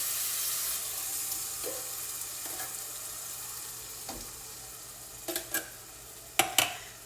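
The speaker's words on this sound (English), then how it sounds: "I got the garlic a-sizzling and a-cooking" Garlic sizzles in a pan on a home stovetop: a quiet, steady frying hiss runs throughout, broken near the end by a few sharp clicks and scrapes of a utensil stirring. No one speaks.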